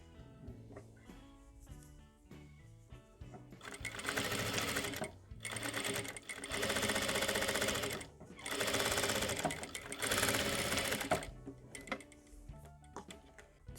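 A sewing machine runs stitching fabric for a plush bunny toy, starting softly, then running in several loud sustained bursts with short pauses between, close up, with no talking.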